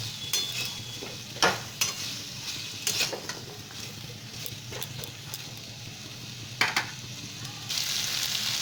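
Papaya sautéed with spices in hot oil in a pan, giving a steady soft sizzle broken by sharp clacks and scrapes of a spoon stirring against the pan.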